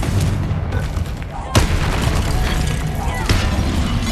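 In Hogwarts Legacy, a Confringo fire-blast spell lands with sharp booming impacts, two loud bursts over a constant rumble of combat noise and game effects.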